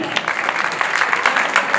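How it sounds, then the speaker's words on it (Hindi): Applause at a Hindi kavi sammelan poetry gathering during a Dussehra fair in Kapasan, a brief, continuous crowd clapping texture, fairly loud and even, with no distinct voice on top. "एक बार जोरदार तालियां आप अपने सम्मान में बजा लें"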